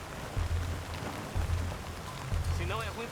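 Steady rain hisses across the open ground near a cattle corral, a continuous wash of drops with low thumps and a voice talking over it toward the end.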